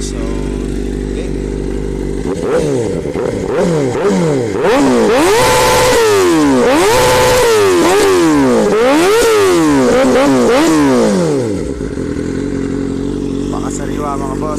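A Kawasaki ZX-4RR sport motorcycle engine, already warmed up, idles loudly up close and then is revved repeatedly in sharp rising and falling bursts before settling back to idle.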